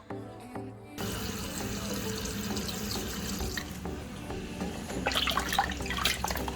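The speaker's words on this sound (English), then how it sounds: "And now we're going to wash that with cold water, or about 100 times, so all the the scaly fish smell to go." Running tap water splashes steadily as cut pieces of mrigal fish are washed in cold water in a sink, with the flow briefly starting and then continuing, and sharper splashes toward the end.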